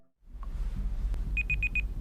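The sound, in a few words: tracking device beeping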